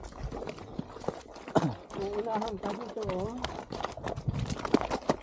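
A horse's hooves clop in an uneven walking rhythm on a steep, hard trail near Kolsai Lake, close by, while people talk over the steps.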